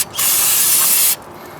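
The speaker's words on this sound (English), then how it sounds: "let's spray her down one more time" Cleaner much like paint thinner sprayed onto a rear brake rotor of a Chevrolet Silverado truck: one loud, steady aerosol hiss lasting about a second, close to the mic, then cutting off abruptly.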